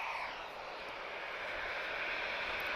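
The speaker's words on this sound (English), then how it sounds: "This is a Falcon 7X registered to Malta." A Dassault Falcon 7X business jet at Lisbon Airport makes a faint, distant, steady roar of engine noise that holds without clear change, with no voices.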